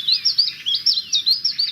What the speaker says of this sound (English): This is the call of the chiff-chaff.